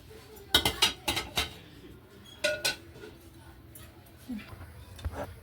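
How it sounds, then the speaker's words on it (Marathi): A pressure cooker is set down in a home kitchen: a quick cluster of sharp metallic clanks and clinks, then a couple more knocks and a softer scrape, close and fairly quiet. "आता मी इथं कुकर ठेवला आणि कुकरमध्ये एक ग्लास पाणी ओतलं"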